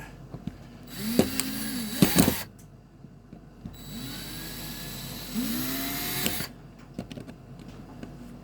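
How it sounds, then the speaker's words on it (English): Small drill whining in short bursts against a rivet on a Corgi Batmobile die-cast toy, starting and stopping with brief gaps and a few sharp scraping clicks, close and fairly quiet. "this drill doesn't want to centre itself into the rivet"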